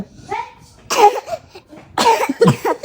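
Close, loud coughing comes in two short bursts about a second apart, with quieter breathy sounds between them.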